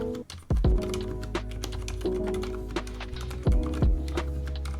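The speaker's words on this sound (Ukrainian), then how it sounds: "Щодо свічів, я обрала найтихіші Cherry MX Silent Red." Soft, muted keystrokes from Cherry MX Silent Red switches on a Varmilo keyboard with a silicone dampening pad patter steadily at close range, with occasional deeper thumps as heavier keys bottom out.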